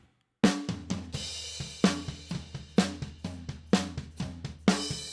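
A snare drum runs through an 1176 compressor and a Helios preamp in a mixing session, playing along with kick, overheads and bass. It gives punchy, full-bodied hits in a steady groove, close and loud, with no talking.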